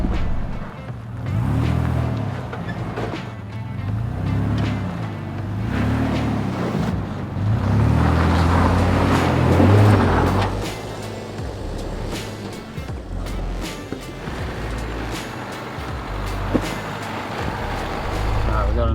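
A 4x4 at The Springs 4x4 Park in Queensland drives along off-road tracks, its engine a steady low rumble throughout with rough surges and bumps from the terrain, fairly close and continuous, with some voices mixed in.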